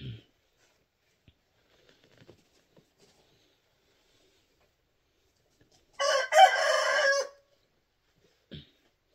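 A rooster crows once, loud and close, a harsh rising-and-falling call lasting about a second, set in an otherwise quiet yard with faint scattered clicks.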